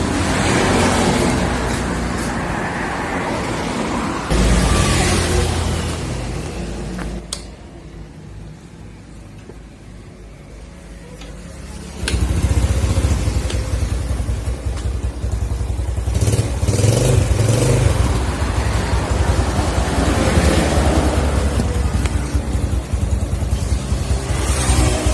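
A Yamaha Jupiter Z motorcycle engine, a bike with low power and unsteady idle, runs up close with a loud continuous drone that drops off briefly and then returns stronger and steadier.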